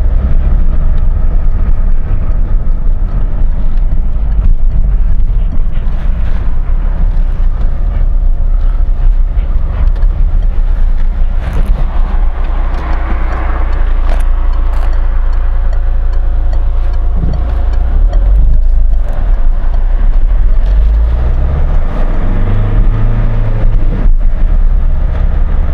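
A car drives through a town, heard from inside as a continuous low engine and road rumble with steady cabin noise and occasional bumps, no talking.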